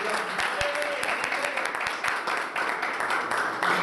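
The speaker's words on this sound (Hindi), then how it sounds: "आए अपने खुदावंद के लिए जोरदार तालियां बजाएं" A church congregation gives applause to the Lord during a sermon, a continuous wash of many hands clapping with scattered sharper claps and some voices beneath.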